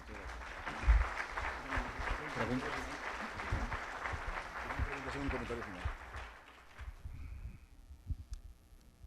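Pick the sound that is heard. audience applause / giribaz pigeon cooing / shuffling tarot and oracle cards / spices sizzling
audience applause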